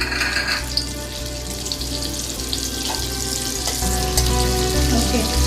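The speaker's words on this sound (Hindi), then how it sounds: "अभी मैं इसमें थोड़ा सा बटर डाल दूँगी" Butter sizzling in a hot pan for saffron egg pulao, a steady close crackling fry that runs throughout with faint scattered clinks.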